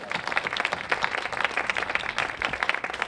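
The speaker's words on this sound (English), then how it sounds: "So please give yourself a round of applause" Outdoor crowd clapping at a Pride flag raising ceremony in Danvers: brisk, uneven applause from a modest gathering, close and lively with individual claps audible throughout.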